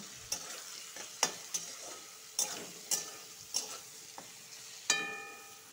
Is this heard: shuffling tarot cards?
no